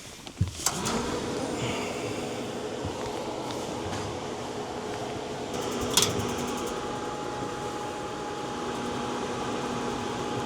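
An RV furnace runs steadily after ignition, giving a constant mechanical hum and whir with a faint click or two near the start and a brief tick midway, with no talking.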